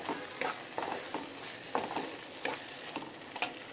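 Ghee is stirred into a pan of Andhra-style sorrel leaves prawn curry, a spoon scraping and clacking in regular strokes over a soft, steady sizzle.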